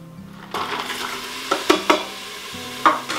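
Red bell pepper hits hot oil in an Instant Pot and starts sizzling, with a few sharp scrapes and clinks of a utensil stirring close by.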